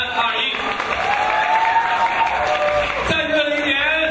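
Steady applause from an audience at a birthday fan event for an actress, a continuous dense clatter with a voice talking over it throughout.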